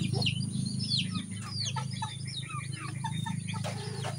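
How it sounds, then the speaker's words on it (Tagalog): Chickens cluck and chirp in a steady jumble throughout, with a low continuous hum underneath and no voices. "Magparami ng manok."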